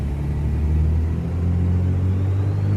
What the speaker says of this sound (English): So you'll hear the turbo here. Let's spin it up.